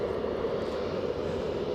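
A Ryanair jet airliner's engines give off a steady, droning roar close by on the taxiway, continuous and unbroken, with no voices over it.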